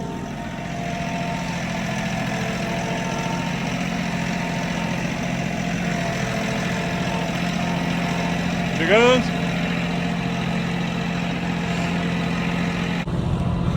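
A farm tractor without a cab idles with a steady low rumble throughout, while people talk briefly nearby.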